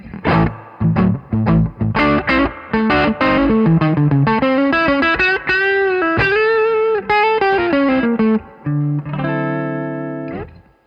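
Electric guitar played through its pickups with distortion, a run of sustained chords and single notes with short gaps between phrases, loud and close with no talking.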